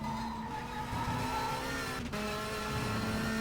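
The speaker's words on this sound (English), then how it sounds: "Just one wheel on the grass, and that is all it takes for you to lose traction and then just go completely off the circuit" A 1992 British Touring Car Championship race car in Race 07 at Brands Hatch Indy, with a steady, close engine drone that dips briefly midway before it resumes.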